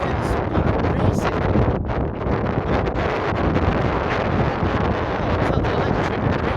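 Wind buffets a microphone outdoors on a windy hill walk, a constant loud low rumble with gusty fluctuations throughout and no clear voice over it.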